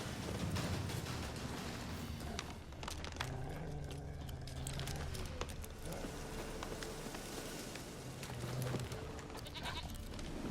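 Goat bleating in The Witcher 3 video game, heard through a dense, steady wash of game ambience and background noise, with a few short tonal calls standing out in the middle and near the end.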